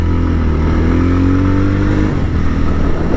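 Yezdi Roadster motorcycle riding on a rough road, its engine droning loudly and steadily and revving with a rising pitch, then settling back to a continuous rumble.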